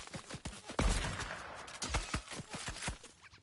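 Fortnite gunfire: a run of sharp shots scattered across the stretch, some single and some in quick clusters, mid-distance, with a heavier burst early on and no talk.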